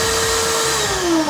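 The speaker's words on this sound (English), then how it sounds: "now of course it was time to vacuum everything up" A vacuum cleaner runs steadily inside a rebuilt Porsche 911 Turbo, cleaning up after window tint work. It is a loud, close, continuous whine and roar, with the pitch shifting slightly as the nozzle moves. No voices.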